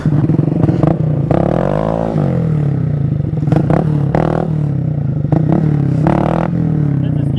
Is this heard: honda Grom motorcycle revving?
yes